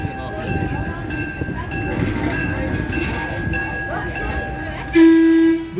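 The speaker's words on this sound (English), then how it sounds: "Wait now for the whistle." A Weiser Railroad train stands at a station with its engine idling and a steady hum. A loud whistle sounds near the end, brief and close, and voices are heard faintly in the background.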